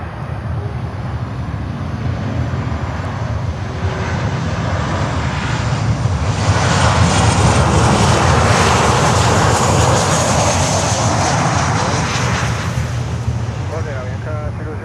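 Jet engines of a cargo aircraft on the runway at Miami airport: a broad, roaring rumble that swells to a loud peak mid-clip and then eases slightly while staying strong through the end.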